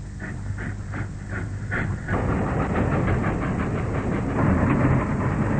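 Heavy rumbling train noise with rhythmic chuffing bursts, then a louder steady roar of a steam locomotive running close by.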